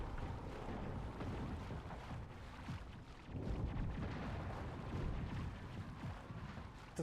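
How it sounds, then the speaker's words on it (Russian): Distant explosions rumble in the video game Mass Effect, faint low booms rising and falling over a quiet, windy background with no talking. "Это взрывы где-то, господи."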